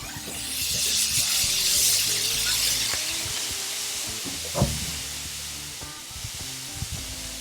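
Bacon sizzles on a barbecue grill with a steady, bright hiss and crackle, fat spitting close by, a faint low murmur underneath and one sharper clack partway through.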